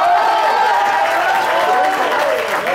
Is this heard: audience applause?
yes